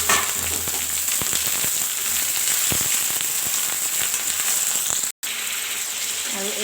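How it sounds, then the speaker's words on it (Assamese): Broiler chicken pieces frying in hot oil in a pan give a loud, continuous sizzle full of popping crackles, close by, with a brief dropout near the end. "এতিয়া দি দিম মই ইয়াত ব্ৰইলাৰখিনি আৰু ভাল ধৰণে ভাজি ল'ম ইয়াত ৰঙা কৰি"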